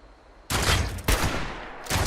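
Gunfire in the online shooter Fallout 76: loud, close bursts of shots in three distinct volleys across about two seconds, with short gaps between them and no talking.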